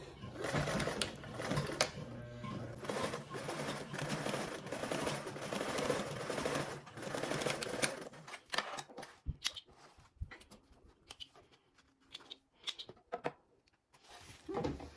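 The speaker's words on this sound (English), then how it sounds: "you're going to want to sew another row of stitches 1/8 of a way from your construction seam" A sewing machine runs a long continuous row of stitches through vinyl, a steady close whirring burst for about eight seconds, then stops and gives way to scattered clicks and handling of the fabric.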